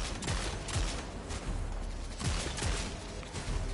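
Video game gunfire rattles in repeated bursts of sharp shots, several clustered volleys at moderate distance over a continuous background, with no talking.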